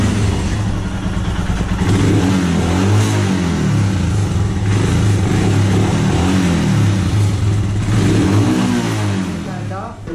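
A Royal Enfield Himalayan motorcycle engine running close by, its thumping idle rising and falling through repeated revs over about ten seconds, loud and continuous.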